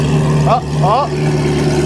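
Corvette C8 Z06 fitted with Kooks headers idles with a steady low exhaust drone from the outside pipes, while a voice talks briefly over it.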